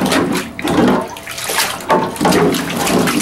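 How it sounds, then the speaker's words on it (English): Water runs through a trumpet during cleaning, a loud, close gushing and splashing that surges and eases in uneven bursts, with no talk. "run some water through"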